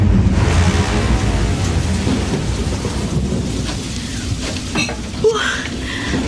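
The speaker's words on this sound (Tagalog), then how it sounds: "Ang lakas ng ulan! Grabe!" Heavy rain pours steadily and loudly throughout a stormy night scene in a Filipino horror drama, with rumbling thunder beneath and a few sharper crackles near the end.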